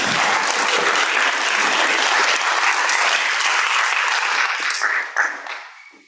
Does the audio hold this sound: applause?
yes